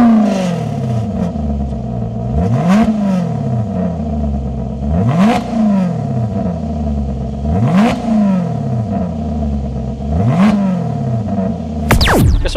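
Maserati GranCabrio MC engine running while driving, a steady low drone that swells in repeated rising sweeps roughly every two and a half seconds as revs climb and fall, with a brief sharp clatter near the end.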